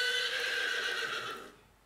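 A horse neighs in one loud, drawn-out whinny that fades away at the end, heard alone.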